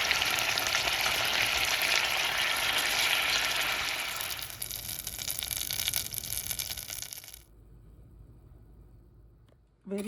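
Frozen tomato blocks melting down in a pan for rasam give a loud, steady sizzle with watery bubbling. The sizzle drops off sharply near the end, leaving a quieter simmer.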